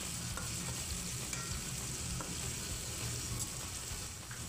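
Chopped onion and tomato sautéing in a pan, a constant dense sizzle with faint stirring scrapes, close and even throughout with no voices.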